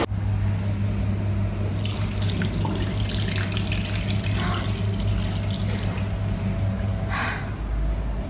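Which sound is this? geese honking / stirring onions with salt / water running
water running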